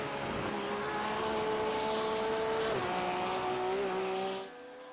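A Porsche race car engine in a sim racing game at Road Atlanta holds a steady high-pitched whine, stepping up briefly as it shifts near mid-clip, then cutting off sharply just before the end.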